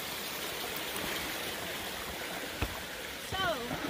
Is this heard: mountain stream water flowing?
yes